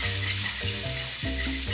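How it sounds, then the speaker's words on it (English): Milk being whisked into cooked flour and pork chop drippings in a hot pan, a loud steady sizzle and bubbling with rhythmic whisk strokes scraping through the thickening gravy, no voices. "got about 1 cup of milk I'm going to whisk"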